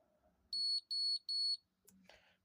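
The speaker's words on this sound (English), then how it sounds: "3 beeps." A Stellar safe lock keypad gives three evenly spaced high-pitched electronic beeps, clear and close, followed by a faint click and rustle.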